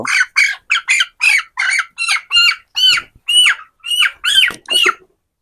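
A small 26-day-old broiler chicken squawks while being held on a weighing scale, giving a loud, close series of about a dozen sharp, shrill cries in quick, even succession.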